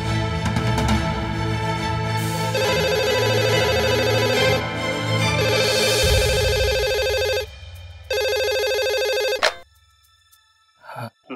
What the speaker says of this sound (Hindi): चचा वो अंकद राम की दुकान से फोन है